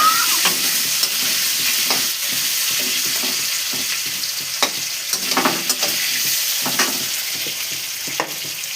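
Potatoes with spices and fried chili fry in a pan, a steady sizzle punctuated by repeated scraping stirs of a spatula, close and fairly loud with no talking.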